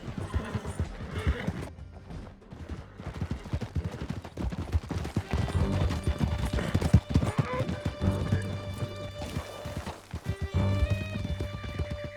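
Rapid clip-clop of horses galloping in Red Dead Redemption 2, dense and steady over a sustained musical score, with occasional horse whinnies and a few distant gunshots mixed in.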